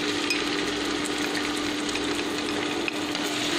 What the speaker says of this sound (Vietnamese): Dầu nóng rồi mình sẽ cho tỏi vào,